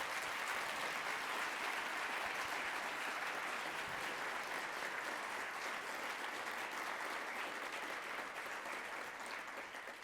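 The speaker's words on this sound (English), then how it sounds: "A big round of applause to all of our talkers." Sustained applause from an indoor audience at a nature-themed talks event, a dense even wash of clapping holding steady for the whole stretch with no voices.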